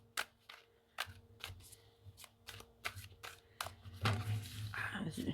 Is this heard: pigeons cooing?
no